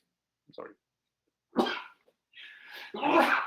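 A few abrupt, explosive bursts separated by silence, sounding like sneezes up close, followed by a brief spoken apology.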